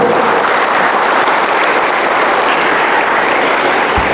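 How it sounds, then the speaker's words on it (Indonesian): A crowd of students at an Islamic boarding school applauds during a religious address, a loud, continuous wash of clapping that fills the whole few seconds. "Tepuk tangan."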